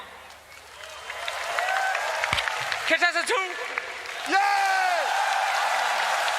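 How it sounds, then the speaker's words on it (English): A crowd at a Dota 2 esports event cheers and claps while a host speaks, with excited voices whooping loudly over steady applause. "Okay, crowd, I need your help. Contestant 1, please. Applause if you want it."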